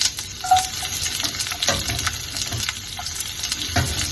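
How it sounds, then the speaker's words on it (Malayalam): Mustard seeds fry in hot oil in a pan, a dense crackling sizzle with scattered sharp pops and occasional stirring scrapes, close and steady with no voices. "നമുക്ക് കടുകും കൂടെ വറുത്തിടാം ഇതിന്"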